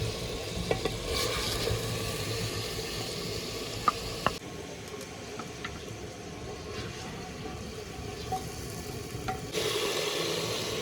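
Chicken pieces frying in hot oil in a pan: a steady close crackling sizzle with scattered pops and light clicks of the pieces being lifted out, the frying noise dropping for several seconds before returning.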